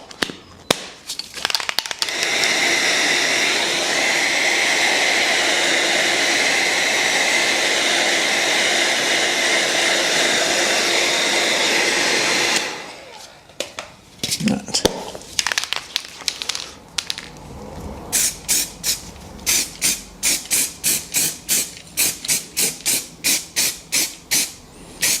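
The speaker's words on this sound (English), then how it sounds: "we'll get a hot air gun on that and warm it up" Hot air gun warming high-build primer on a VW Golf repair in freezing conditions: a loud, steady blowing roar held for about twelve seconds, then cut off, followed by scattered clicks and a run of sharp rhythmic taps.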